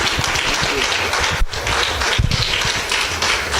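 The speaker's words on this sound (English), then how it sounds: "Give a round of applause for our leader, our spokesperson, Pastor Rodney Hunter." A standing church congregation gives a loud, sustained round of applause for Pastor Rodney Hunter, dense clapping throughout with a few sharper claps standing out.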